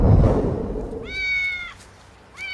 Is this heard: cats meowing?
yes